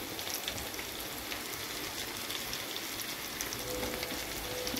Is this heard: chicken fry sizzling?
yes